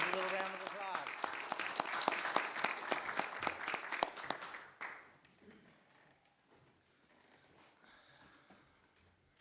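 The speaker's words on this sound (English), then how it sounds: "I think that deserves a little round of applause." Audience applause at a town council meeting in Grand Falls-Windsor, a dense burst of clapping that lasts about five seconds, then fades into quieter room noise with scattered voices.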